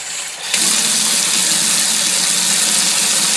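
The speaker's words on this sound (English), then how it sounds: "we are going to put the water on full blast" A kitchen sink tap is turned on at full blast, starting with a click and then a loud, steady, close rush of strong water that continues unbroken to the end.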